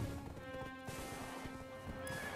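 A horse in Black Desert Online whinnies once, up close, over steady hoof clip-clops, with no talking.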